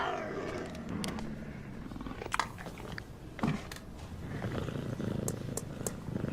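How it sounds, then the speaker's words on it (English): A puma in a jerky advertisement growls and purrs in a steady low rumble, close and fairly soft, with a few short sharp clicks and snaps on top and no speech. "It's a puma."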